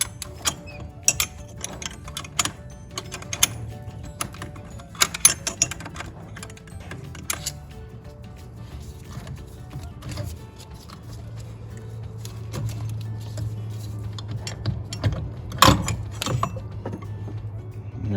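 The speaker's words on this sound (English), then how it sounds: "So I'm going to loosen these bolts and pull the pump out." Bolts are loosened by hand to pull the pump out of a Permagreen Triumph lawn sprayer, making close, scattered metallic clicks, ratcheting and clunks followed by a low mechanical whir.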